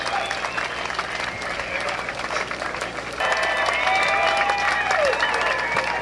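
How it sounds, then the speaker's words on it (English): An outdoor crowd at the 1988 Aloe Up Cup surf contest in New Smyrna Beach applauds and cheers for the finishers, steady clapping and voices that swell louder halfway through, with some speech mixed in. "let's hear it for Brad Gerlach and Barton Lynch, our third place finishers"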